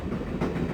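Passenger train running in the 1996 adventure game Broken Sword, a dense, loud rumble of wheels and carriage noise with faint rhythmic clatter, heard alone.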